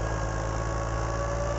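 A Mahindra 275 DI tractor engine driving a 6-foot rotavator, a loud, steady diesel drone with constant low rumble and vibration, running alone without pause.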